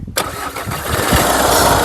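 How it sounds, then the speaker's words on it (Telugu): A 2013 Skoda Rapid Elegance TDI diesel fires up in one crank after a short moment of quiet, then settles straight into a loud, close, steady rumbling idle. "కారు కూడా సింగిల్ సెల్ఫ్లో కార్ స్టార్ట్ అవుతుంది"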